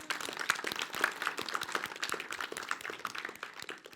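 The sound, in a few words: audience applause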